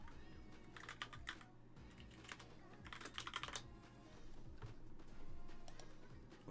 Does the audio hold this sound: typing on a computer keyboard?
yes